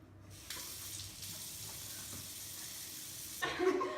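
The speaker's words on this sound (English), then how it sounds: "you must wash your hands with soap and hot water" Hot water runs steadily from a kitchen tap as hands are washed with soap, a continuous splashing rush with a louder burst near the end.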